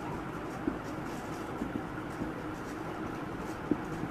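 Pen writing on paper while a bank reconciliation entry is noted, a faint continuous scratching with a few light taps, close and quiet under a steady background hiss.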